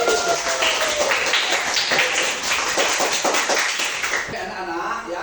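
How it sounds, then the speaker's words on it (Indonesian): A class of students clapping hands together in a classroom, a dense run of many overlapping claps lasting several seconds before dying away, with voices mixed in. "Tepuk tangan dulu buat ini."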